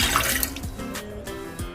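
Water pours steadily into a pan to start a sugar syrup for strawberry tanghulu, a close, continuous splashing and trickling rush lasting under two seconds.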